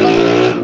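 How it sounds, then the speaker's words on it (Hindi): Traffic on Murree Road: a car passes close by with a loud, steady engine drone that fades slightly at the end, with no voices over it. "मरी रोड के ऊपर बिल्कुल मुझे गाड़ियों की आवाज आ रही है"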